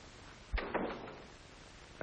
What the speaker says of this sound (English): Hadn't you better close the door?